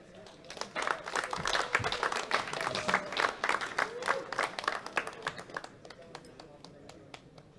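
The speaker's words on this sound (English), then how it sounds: "Give them a big round of applause" Applause rises in a hall for the medalists at a world classic powerlifting championship, with dense sharp hand claps swelling, then thinning toward the end as scattered claps trail off.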